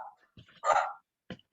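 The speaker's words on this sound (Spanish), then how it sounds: "no sé quién es la que tiene un perro ladrando." A dog gives a short, sharp bark in the background of an online call, then a fainter yip follows after a brief pause, fairly close and alone without talk over it.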